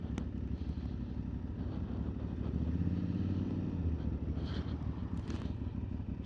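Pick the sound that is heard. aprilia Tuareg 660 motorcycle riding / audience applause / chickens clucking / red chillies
aprilia Tuareg 660 motorcycle riding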